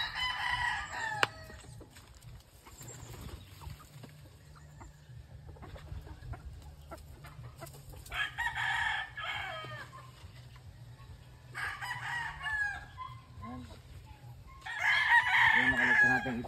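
Backyard hens and a rooster clucking in short bursts, with several loud crows rising above a steady low hum, fairly close.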